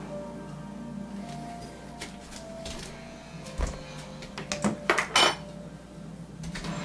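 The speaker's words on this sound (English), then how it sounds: "One more spoon of sugar." A spoon clinks against a glass or bowl while sugar is added for an avocado shake, with several sharp metallic taps bunched near the end over a low background hum.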